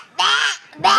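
A person imitates a duck's quack with two loud, nasal vocal bursts, one long and one shorter, separated by a brief pause.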